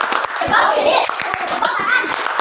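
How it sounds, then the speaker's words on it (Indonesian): A group of children claps together in a quick patterned rhythm, mixed with excited voices and chanting. "Kasih tepuk salut lagi ya."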